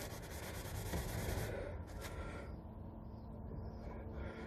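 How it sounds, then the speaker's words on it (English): Quick, light rubbing as filler is spread over the scuffs and dents of wooden furniture during repair, a continuous close scratchy friction that eases off partway through. "Don't rub it, you don't have to rub it hard, just rub it quickly, just to spread it out."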